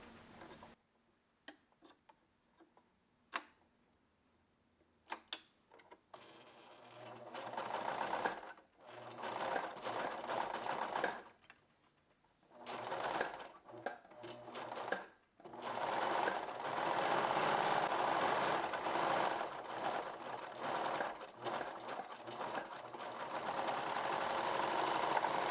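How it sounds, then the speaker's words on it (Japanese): An overlock serger runs along the curved edge of blouse fabric, starting with a few quiet clicks before settling into a steady fast mechanical whir in long stretches. "カーブの方にロックミシンをかけていきます。"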